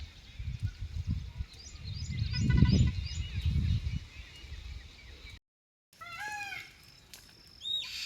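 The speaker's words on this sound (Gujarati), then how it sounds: "અને મોર ક્યારના બોલે છે." Peacocks call in a green rural village area near Gir, Junagadh, as a few faint, rising nasal cries toward the end, mixed with small bird chirps over earlier low rumble and handling noise.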